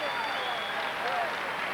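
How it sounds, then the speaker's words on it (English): Basketball arena crowd at a Knicks–Celtics game in New York applauding the Knicks' effort, a steady, fairly faint wash of clapping and crowd noise with a voice talking over it. "The applause for this Knick effort as the Celtics have hit 90 points."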